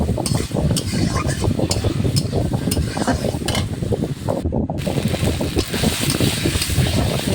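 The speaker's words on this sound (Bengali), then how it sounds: "কষানোটা খুব সুন্দর করে কষাইতে হবে, কারণ এটা মাছ হলেও মাংসের মতো রান্না" Kuchia (mud eel) fish curry being stirred and fried in a pan with a little water, cooked down like a meat curry; dense clattering spoon scrapes and clinks over a steady close sizzle, with a brief dropout midway.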